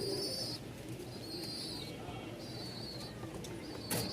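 Rajshahi giribaz pigeons coo softly and low, close by, while higher bird chirps come and go over a steady, noisy loft background.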